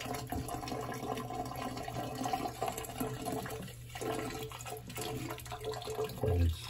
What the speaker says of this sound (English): So the hose is draining pretty good